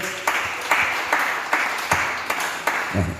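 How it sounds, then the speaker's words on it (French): Congregation clapping in rhythm in a church, steady regular claps about every half second, loud and close, with no talking. "Est-ce qu'on peut acclamer le Seigneur?"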